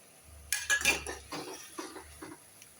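A utensil clinks and scrapes against a pan while spice powders are sautéed with onion and tomato, a few sharp metallic knocks followed by softer stirring scrapes, close and fairly quiet.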